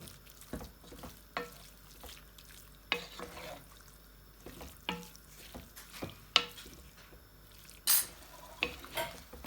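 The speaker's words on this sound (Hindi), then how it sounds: "तो थोड़ा हम लोग 5 मिनट के लिए हम इसको मीडियम आंच पे थोड़ा घुमाएंगे" Minced beef cooking in a pan over medium heat, a faint background sizzle broken by irregular scrapes and clacks of a spoon stirring against the metal.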